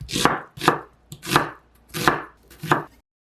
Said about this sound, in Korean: 양파는 반으로 자르고 작은 크기로 자르세요